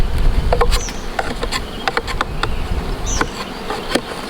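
Bees buzz continuously around a hive, a busy mid-pitched drone with occasional sharper passes close by, and no talking.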